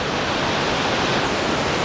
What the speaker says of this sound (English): I love this waterfall.